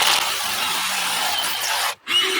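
A power drill bores a hole with a 10mm bit while installing glass pool fencing, a steady close whine that briefly cuts out near the end before spinning up again.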